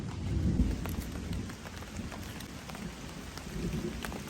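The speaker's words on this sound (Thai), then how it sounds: "โอ้ฝนตกหนักแล้วนะตอนนี้" Heavy rain pours on a forest shelter during a thunderstorm, a dense continuous patter with scattered sharper drops and a low thunder rumble near the start.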